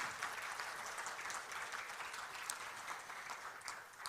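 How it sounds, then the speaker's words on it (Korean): An audience at the launch of a small-business innovation network forum in Korea applauds with a steady, even wash of clapping that sounds quiet and distant throughout. "여러분 출범을 큰 박수로 축하해 주시기 바라겠습니다"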